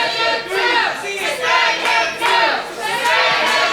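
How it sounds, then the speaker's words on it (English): Wrestling crowd chanting in unison at a live show, a loud rhythmic chant repeating in waves close around the listener. "This crowd is chanting, kill him."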